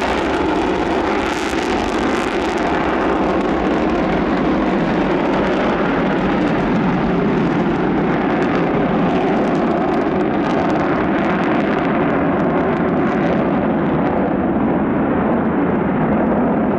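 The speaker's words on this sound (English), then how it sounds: "This B-1B Lancer showing off its afterburners." A B-1B Lancer bomber roars with afterburners lit, a loud, continuous broadband blast that holds steady and overwhelming for the whole stretch, with no voices.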